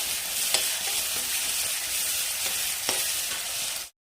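Onions frying in hot coconut oil, a dense, even sizzle filling the clip close up, broken by a few soft scrapes of stirring before it cuts off abruptly.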